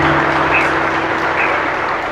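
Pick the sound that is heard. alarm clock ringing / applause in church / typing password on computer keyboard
applause in church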